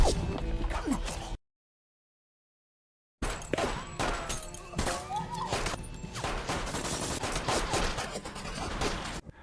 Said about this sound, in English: But Yoo was caught in the crossfire, taking a bullet on her stomach, killing her